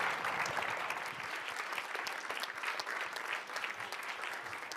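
A conference audience claps for a health policy panel, a dense, steady round of applause filling the room at moderate distance without a break.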